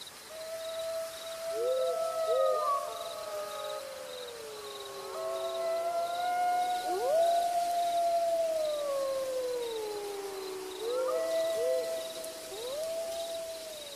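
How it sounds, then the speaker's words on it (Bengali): Jackals calling far off at night, several overlapping wailing howls that rise, waver and fall in pitch, repeating in waves over a soft hum of insects. "বহু দূর থেকে খ্যাঁক শেয়ালের ডাক তার কানে ভেসে আসছে"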